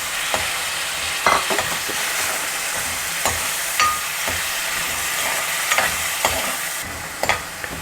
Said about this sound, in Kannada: ಮಸಾಲೆ ಚೆನ್ನಾಗಿ ಫ್ರೈ ಆಗಿದೆ ನೋಡಿ, ಎಣ್ಣೆ ಬಿಟ್ಕೊಳ್ತಾ ಇದೆ.